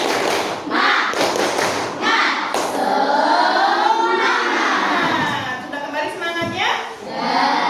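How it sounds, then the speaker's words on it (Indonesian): A classroom group performs the rhythmic 'tepuk semangat' clapping chant, close sharp claps in a patterned beat mixed with children shouting the chant words together in loud bursts. "Tepuk semangat, siap ya?"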